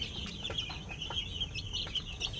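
Young chicks cheep softly at night, thin high peeps repeating irregularly over a low steady background hum.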